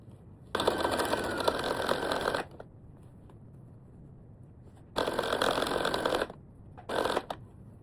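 Sewing machine stitching a duffle bag strap in three bursts of fast, close mechanical whirring separated by quiet pauses, the first about two seconds long and the last very short.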